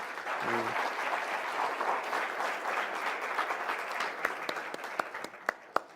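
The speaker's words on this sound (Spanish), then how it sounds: "Yo le ruego pues un aplauso para los panelistas y para Frank." Audience applause for a panel at a forum, a steady wash of many hands clapping that thins toward the end into a few scattered, louder claps.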